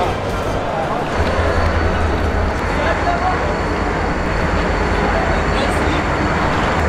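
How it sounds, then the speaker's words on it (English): Train pulling into a platform at an Egyptian railway station, a continuous loud rumble and rolling roar filling the whole stretch, with crowd noise and voices mixed in. "Yeah, this is our train."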